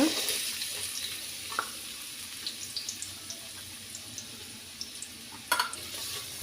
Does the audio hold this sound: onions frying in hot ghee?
yes